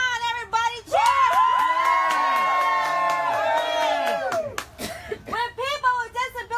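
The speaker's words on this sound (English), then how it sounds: "Let me hear you cheer so loud that the entire community here will hear us" A rally crowd of protesters cheers, whoops and claps loudly and close up, a sustained roar of voices that swells and then breaks into scattered shouts.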